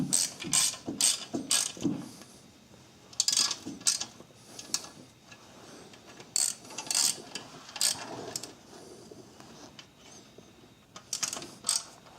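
A ratchet with a 17 mm socket tightens a bolt on the rear timing belt cover of a Suzuki Forenza during cylinder head installation, giving repeated close bursts of sharp clicking with short pauses between strokes.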